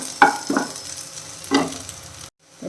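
Shallots sautéing in a little oil for a shallot chutney, with a few distinct scraping stir strokes over a low sizzle, then a brief drop to near silence at the end.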